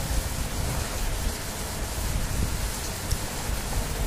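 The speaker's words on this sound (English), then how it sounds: "it's raining outside." Steady rain falling outside, a dense even hiss with faint irregular patter, continuous and moderately loud with no talking.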